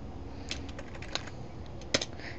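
Typing on a computer keyboard: a short run of light, irregular key clicks over a steady hum, close and fairly quiet, ending with a slightly louder double tap.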